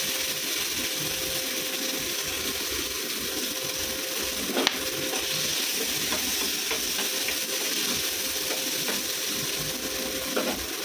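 Black cumin and green chilies sizzle loudly in hot frying oil, a dense, continuous crackling hiss with a few sharper pops and scrapes scattered through it, and no talking.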